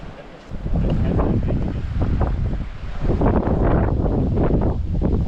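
Strong gusts buffet the microphone beside a Colorado river during fly fishing, loud low rumbling bursts that rise and fall over several seconds.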